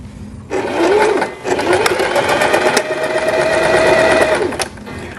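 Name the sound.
sewing machine stitching fabric edge of hair scrunchie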